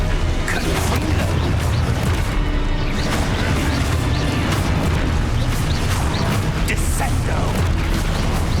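A Confringo fire spell detonates in the Hogwarts Legacy video game, with dense booming bursts and crackling blasts layered over continuous combat noise that holds loud throughout.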